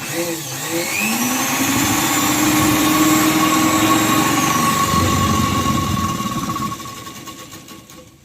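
A sewing machine stitches a petticoat hem at speed, its motor whirring up into a loud, steady high hum that runs for several seconds before winding down and stopping, with no talk over it.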